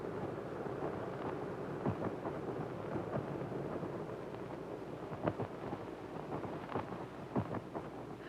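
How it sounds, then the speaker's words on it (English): Steady wind blows in a broad, continuous rush that holds at moderate loudness, with gusty swells and brief louder bursts scattered through it, and no voices. "Yes, the wind is growing stronger."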